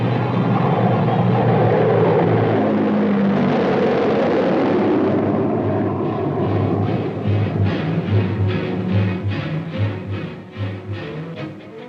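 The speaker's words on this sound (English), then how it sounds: "the giant planes started to airlift men and equipment back to the United States safely and on schedule" Giant military transport planes airlift troops and equipment on a 1964 Army exercise, giving a loud, steady roar of aircraft engines that gradually thins into a pulsing propeller throb as it recedes.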